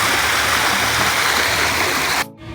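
Fresh, very cold water rushes continuously in a stream, a dense close wash that cuts off abruptly near the end.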